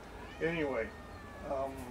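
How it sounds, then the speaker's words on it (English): A pet cat meows twice, two short rising-falling calls around a nearby voice, with someone speaking briefly in a quiet room. "that's my cat"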